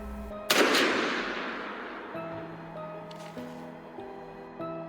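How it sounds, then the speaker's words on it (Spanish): A single sharp gunshot cracks out at night and its echo rolls away, decaying over several seconds beneath faint sustained tones and small later knocks. "El eco del disparo quebró la noche."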